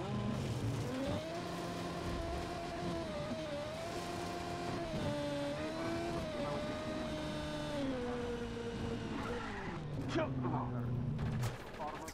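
Rapid bursts of gunfire crackle in Just Cause 3 gameplay, layered over a steady droning engine and game noise throughout, with louder pops near the end.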